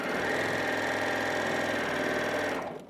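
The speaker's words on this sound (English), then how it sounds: "I start pressing the reverse button and I sew backwards" A Janome HD9 sewing machine runs continuously, stitching forward and then in reverse, giving a loud, even motor hum with fast needle rattle that cuts off abruptly at the end.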